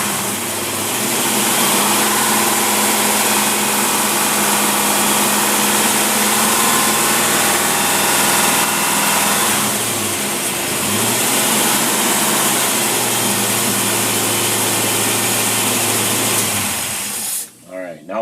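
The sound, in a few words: test engine revving with Holley double pumper carburetor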